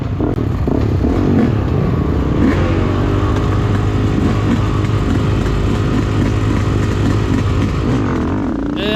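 A YZ250 enduro motorcycle leaving the start of a timed test at the 2020 Cherokee National Enduro, its two-stroke engine revving loud and close as it accelerates away over steady riding noise.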